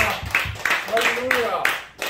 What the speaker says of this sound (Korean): 다시 한 박수 영광 드립니다